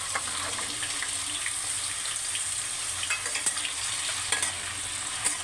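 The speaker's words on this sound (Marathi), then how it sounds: "बटाटे थोडेसे लाल होईपर्यंत तेलामध्ये परतून घ्यायचं।" Potatoes frying in hot oil in a home kitchen, an even sizzle broken by repeated stirring scrapes and a few sharp clinks of a ladle, moderately loud and close, no talking.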